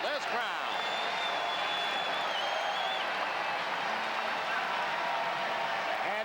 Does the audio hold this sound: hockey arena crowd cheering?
yes